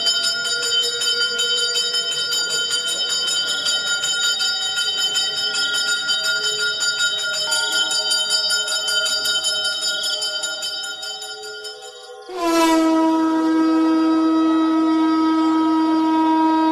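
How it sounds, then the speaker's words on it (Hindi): Temple bells ringing: sustained, layered metallic tones hum and shimmer, fade slightly, then a loud fresh strike rings out and resonates strongly, with no talking. "मंदिर की सारी घंटियां"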